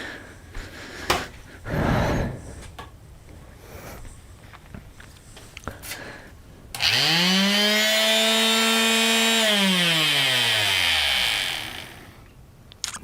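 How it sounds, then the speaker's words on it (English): Palm sander running while shaping a cosplay hat: after a few handling clicks it whirs up to a loud, steady high-pitched motor drone for about five seconds, then winds down. "a part of me just wants to use the palm sander"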